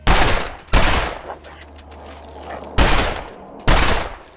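Four sharp rifle shots in The Long Dark video game, fired at a wolf, each loud and close with a long ringing decay, spaced unevenly over a few seconds.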